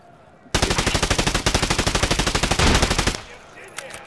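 Rapid automatic gunfire in a ranked arena video game, a loud sustained burst of evenly spaced shots lasting over two seconds, then cutting off to quieter game sounds.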